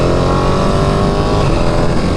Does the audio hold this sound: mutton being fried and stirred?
no